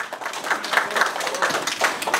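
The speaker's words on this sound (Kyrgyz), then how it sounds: "Кол чаап коюңуздар дасторконун ээси" Guests at a jeentek toi family celebration in Krasnoyarsk clap in quick, uneven bursts, a lively patter of hands close by with faint voices underneath.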